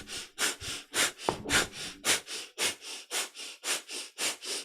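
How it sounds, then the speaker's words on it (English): Rapid yoga breath of fire, about fifteen sharp rhythmic nasal exhalations in an even pulse, close and loud, with no talking. "And again, it's a breath of fire"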